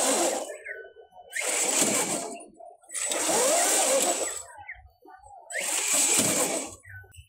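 An FRC Charged Up competition robot's unusual elevator mechanism runs in four separate whirring bursts, each a loud high motor whine lasting about a second, with short quiet gaps between them.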